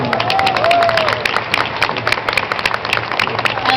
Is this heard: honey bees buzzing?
no